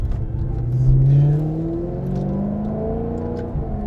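Maserati GranTurismo Sport engine pulling hard while driving, a loud, close rising rev that swells around the first second, then settles into a steady, sonorous drone with climbing harmonics.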